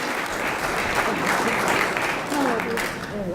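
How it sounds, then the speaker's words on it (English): Audience applause at a Lyme Connection conference, a steady dense roar of clapping honoring a retiree's years of service, close and loud throughout with faint voices mixed in. "give Jennifer a round of applause for her many years of service"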